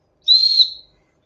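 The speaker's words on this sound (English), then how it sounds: "a whistling action figure, folks. I've never seen one like that." A single short, high-pitched whistle from a Marvel action figure toy, clear and isolated, lasting just over half a second against silence.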